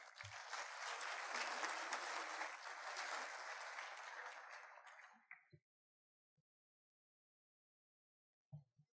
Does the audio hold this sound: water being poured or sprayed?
no